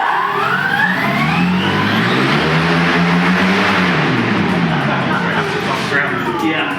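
Hovercraft engine pushed to full throttle, a loud close roar whose pitch rises and then sags as it strains, with a whining harmonic sweep over a constant broadband blast of air.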